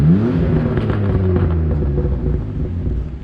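Tuned BMW E46 engine and exhaust idling and revving with a deep harmonic rumble, a quick rise in pitch at the start, then a steady throbbing drone with faint popping crackles, close and loud.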